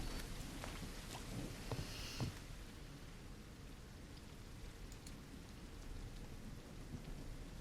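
Steady rain falling in the woods around a creepy house in the game Light in the Woods, a continuous soft hiss with low rumbling thunder and a few sharper drops early on.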